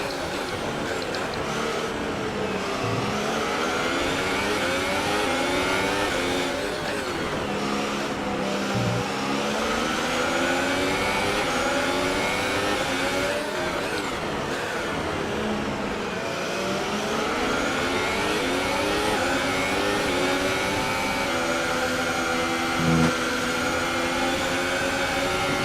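A Formula 1 race car engine in the F1 2018 video game at the USA Grand Prix, droning continuously and loudly with rising and falling pitch sweeps as the car shifts gears and changes speed, with no talk over it.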